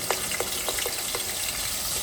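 Ginger garlic paste for pav bhaji sizzles in a pan, a steady close frying hiss with a few soft rhythmic popping bursts about every quarter second, no voices over it.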